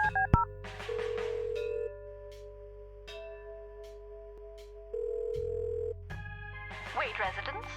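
In the Kathy Rain video game, a phone handset picks up with a click, then a long ringback tone sounds twice with silence between, and a short burst of keypad dialing tones comes at the end; no voices are heard.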